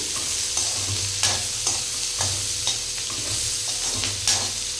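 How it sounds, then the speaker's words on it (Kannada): Green chillies frying in a pan while being stirred, with a steady close sizzle broken by regular scraping strokes of a spatula roughly every second. "ಈಗ ನಾನು ಈಗ ಫ್ರೈ ಮಾಡ್ಕೊಳತ್ತೀನಿ"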